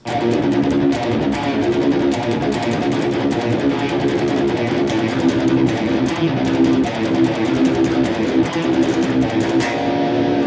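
Distorted electric guitar riff played continuously with hard, accented picked notes in a steady groove, loud and close.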